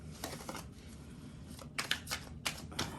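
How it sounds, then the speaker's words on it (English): Tarot cards being shuffled nearby, a soft riffling patter followed by several crisp flicking bursts, fairly quiet with no talking. "Do some bad shuffling."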